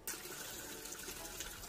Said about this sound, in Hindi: जब तक पानी भर रहा है मेरा